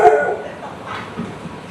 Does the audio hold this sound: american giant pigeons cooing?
no